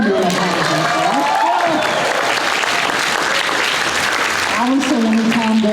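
A convention audience at the CONvergence 2019 talk breaks into steady, dense applause that fills the whole stretch, with a voice briefly heard over it at the start and again near the end.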